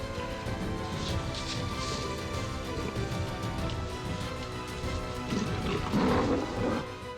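A lion roars through a thick wildlife soundscape, the deep growling calls blending with crashing, rumbling background noise that swells near the end.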